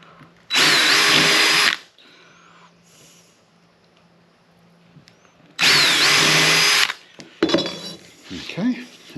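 A power drill drives screws into wood while a birdhouse is built, in two loud, close bursts of about a second each, separated by quiet handling of parts, followed by clattering and light knocks.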